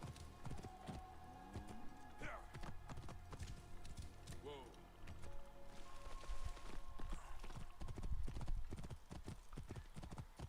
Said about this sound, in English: I don't know where I want the horse to go. It keeps just jumping over everything.